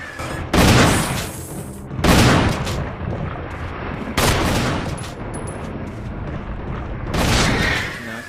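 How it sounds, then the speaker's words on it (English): Four separate gunshots from the survival horror game Resident Evil, each a loud, sharp blast with a long booming tail, spaced roughly one to three seconds apart. "I'll shoot it a couple times just so I can contribute."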